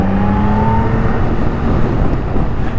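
A 2025 Yamaha MT-09 Y-AMT motorcycle with an automated gearbox is ridden along, its engine droning steadily and loudly close by, the pitch shifting slightly as it changes gear.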